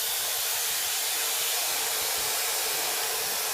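Washed neem leaves dry-roasting in a wok over a low flame with no oil give off a steady, even hiss of moisture steaming away, constant throughout with no talking.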